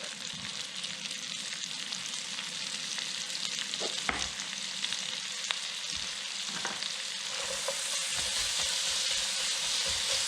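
Onions with sugar, salt and pepper sizzle steadily in a pan for German gulasch, a constant close frying hiss broken by occasional scrapes and clicks of stirring, with no voices.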